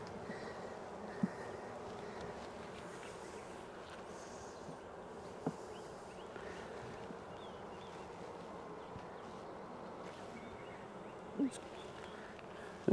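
Honey bees hum in a steady, dense buzz around an open hive during an inspection, with a few faint clicks and bumps over the constant drone.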